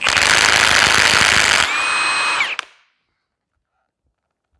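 Milwaukee 2767 high-torque impact wrench running in mode 3, a loud dense hammering rattle that shifts to a whining free spin and winds down to silence after under three seconds.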